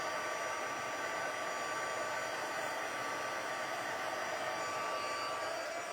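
An embossing heat tool blows a steady, loud, even whoosh while melting embossing powder on cardstock for a Christmas card. The hot-air roar holds constant for the whole span, close up, with no talking.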